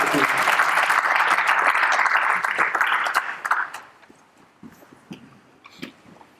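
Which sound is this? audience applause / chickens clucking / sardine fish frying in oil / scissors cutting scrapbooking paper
audience applause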